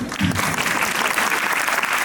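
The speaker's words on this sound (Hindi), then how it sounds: "तो ऐसे ही जोरदार तालियां बजाते रहिए और बच्चों को भी मोटिवेट करते रहिए।" Dense, steady applause from the audience at a school annual day function at Kid'z Garden School, filling the hall without pause for the whole stretch.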